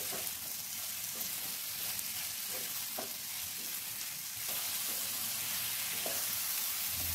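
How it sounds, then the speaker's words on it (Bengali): Ridge gourd fries with spices in a pan, a soft steady sizzle with a few brief stirring scrapes at intervals, quiet and close. "ঝিঙেটা দিয়েও আবারও মশলার সাথে ভালো করে কষিয়ে নিচ্ছি"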